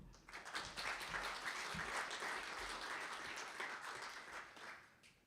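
An audience at a trade-cooperation seminar in Seoul breaks into applause, swelling quickly and holding steady, moderately distant and soft, then tapering off toward the end.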